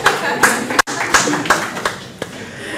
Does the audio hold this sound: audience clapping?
yes